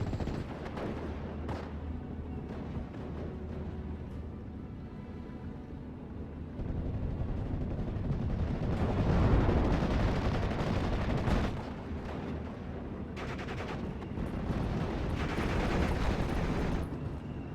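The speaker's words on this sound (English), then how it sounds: "Naval Warfare barrage coming in." Naval artillery barrage in a World War II strategy game, a continuous rumbling roar of distant gunfire and heavy impacts that swells louder midway and again near the end, with no voices.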